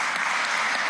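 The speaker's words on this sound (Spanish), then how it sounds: "Un gran aplauso, vale." Audience applause at a presidential productive-day event at Miraflores in Venezuela, a brief dense burst of steady clapping with no voices over it.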